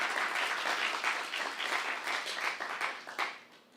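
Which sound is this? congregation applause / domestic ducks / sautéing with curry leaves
congregation applause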